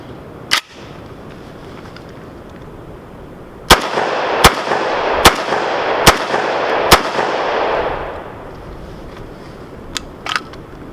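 Five sharp shotgun blasts from a VEPR 12, an AK-pattern Russian shotgun fed from its factory 5-round magazine, come in a quick, slightly uneven string, each with a loud crack and a long outdoor echo. A few fainter clicks and pops come before and after.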